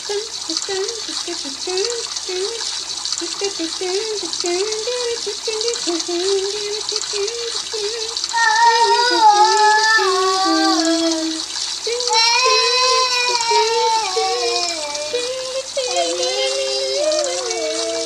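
In Roblox Brookhaven, a virtual shower runs with a constant hiss of water throughout, while a voice talks and sings over it.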